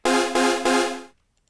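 A synthesizer patch designed in Serum plays three bright, buzzy, harmonically rich stabs in quick succession, then cuts off abruptly into silence.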